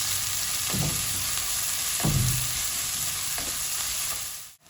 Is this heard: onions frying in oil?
yes